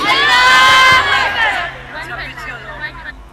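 A large crowd roars the takbir response in unison at an Islamic lecture, a loud surge of many voices that peaks early and then fades into scattered shouts and murmuring.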